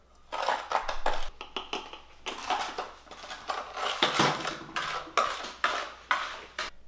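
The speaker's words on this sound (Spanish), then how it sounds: "Mezcla la canela y azúcar." Cinnamon and sugar being mixed on a plate with a utensil, a busy run of close scraping and clattering strokes against the dish in quick, uneven bursts.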